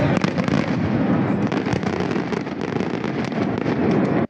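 New Year's fireworks in Trieste, a loud, continuous barrage of crackling bangs and pops that overlap without pause for several seconds before cutting off abruptly.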